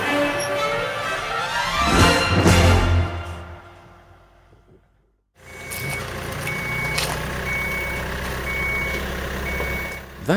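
A mighty truck towing a military trailer reverses with a steady, repeating electronic reversing beep over loud engine rumble, after a brief pause in the noise, with no talking.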